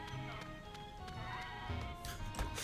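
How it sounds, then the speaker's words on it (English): Braying donkey-like animal calls from Pokémon Moon, repeated and overlapping in a busy game soundscape near a geothermal power plant, with hooves and bleats mixed over steady background music. "So many donkey noises everywhere."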